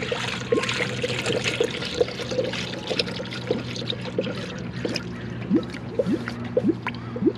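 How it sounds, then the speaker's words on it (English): Coolant pours into a new Mishimoto radiator in a Miata, a steady trickle with gurgles and glugs, close and fairly quiet, with repeated bubbling pops. "let's put some coolant in"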